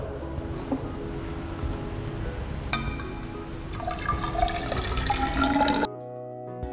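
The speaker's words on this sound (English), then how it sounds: "We now fill this measuring cylinder with water." A 500 milliliter measuring cylinder filling with water, a steady gurgling stream that rises in pitch and intensity as the level climbs, then stops abruptly, close with no talk.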